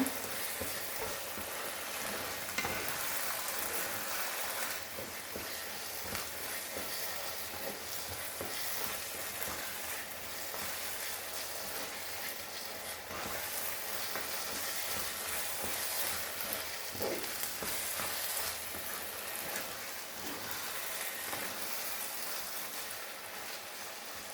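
Spiced stuffing mixture of rice with pepper and cumin stirred in a hot pan, a steady close sizzle and frying crackle with soft scraping stir sounds throughout, no talking.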